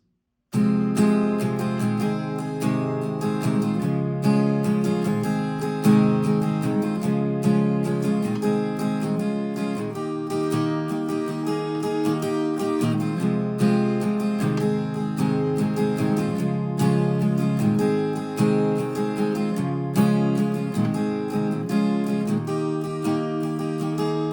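An acoustic guitar strums chords in a steady rhythm, playing a song intro at moderate volume with no voices.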